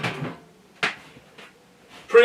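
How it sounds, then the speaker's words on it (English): Top door panel being unhooked from its small hinges on a BS350 machine, giving a few short hollow knocks and clunks spaced across the moment, fairly close, with a louder rattle at the end and no talking. "I'm going to take the top door off"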